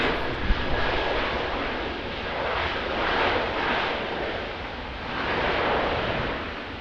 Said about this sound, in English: Qantas showing them how it's done in the Airbus A330. Down on 2 left.